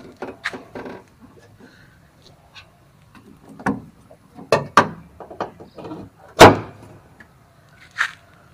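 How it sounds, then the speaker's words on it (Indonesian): Clicks, latches and thumps from the hood of a used car being released and raised, a series of sharp mechanical knocks and a louder clunk near the end, close and otherwise quiet. "Buka bagian kap mesinnya."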